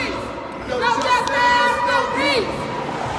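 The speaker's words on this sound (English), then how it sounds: "walking up to the large crowd." A large crowd at a protest march on the 35W highway in Minneapolis, with fire department nearby, gives a steady murmur of many voices and scattered calls, swelling in the middle and staying fairly close.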